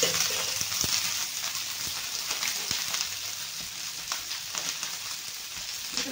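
Onion and coconut roasting in a little oil in a pan, a steady close sizzle with occasional stirring clicks and scrapes, no voices.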